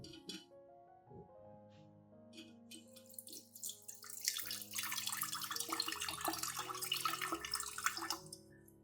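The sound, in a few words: onion solution being strained, liquid dripping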